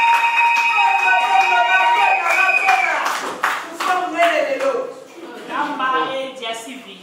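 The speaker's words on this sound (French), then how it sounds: "On applaudit pour l'échangement des places." Guests at a Congolese civil wedding ceremony clapping together as the couple swap places, a loud sustained round of applause mixed with voices and a high musical tone ringing over it.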